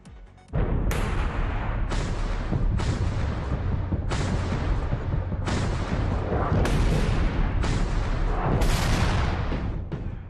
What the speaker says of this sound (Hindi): ये रूस की हॉवित्जर तोप हैं जो यूक्रेन पर कहर बरपा रहे हैं।